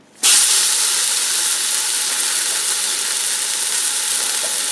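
A pot roast searing in avocado oil in a stainless steel insert of a Ninja Foodi: after a brief quiet start, a loud, steady, close sizzle and hiss runs unbroken to the end.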